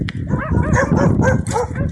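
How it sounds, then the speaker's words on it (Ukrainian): Dogs bark and yip close by in an abandoned, war-damaged village, a string of loud, rapid barks with whiny overtones running back to back. "Одни собаки."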